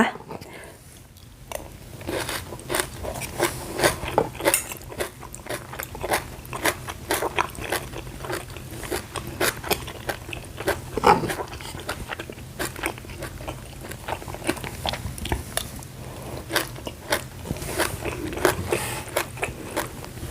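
Close, crunchy biting and chewing of a stir-fried wild vegetable dish, hop shoots sautéed in butter, with a steady run of crisp crackles and soft mouth sounds over about twenty seconds.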